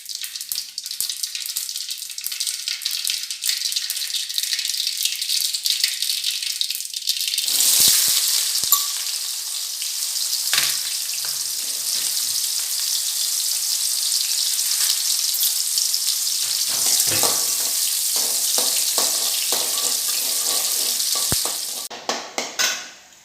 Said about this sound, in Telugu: ఎర్రగడ్డ వేగింది కదా